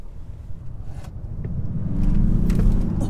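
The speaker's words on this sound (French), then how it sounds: "Oh, ça drift très très fort." Kia Stinger in sport mode drifting, a low engine and tire rumble that swells louder toward the end with some wind buffeting, no talk.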